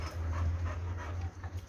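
A pit bull dog pants steadily and close by, a rhythmic breathy sound running through the whole moment with a low steady hum underneath.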